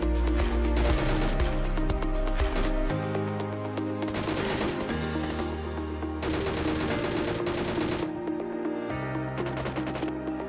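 Rapid automatic gunfire in PUBG Mobile, several dense bursts separated by short pauses, loud and close, with no talking.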